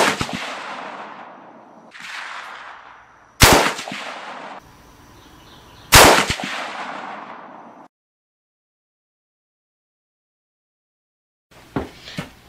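Sharp, loud shots from a 6mm Creedmoor rifle, several in irregular succession, each with a booming echo decaying over a second or more, followed by silence and a final brief crack near the end.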